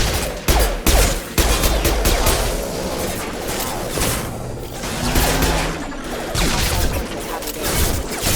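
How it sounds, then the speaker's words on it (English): Gunfire from the Mass Effect 2 video game, a loud continuous barrage of rapid shots and impacts with heavy booms early on, dense and close throughout. "Shoot them before they take out the shield."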